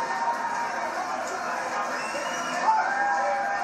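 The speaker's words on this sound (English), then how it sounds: "there's the Trudeau camp cheering the unknown man who comes in strong again in this third round" A crowd of Trudeau supporters cheers and shouts during the third round of a charity boxing match between Justin Trudeau and Patrick Brazeau. The roar is steady and dense throughout and swells slightly near the end.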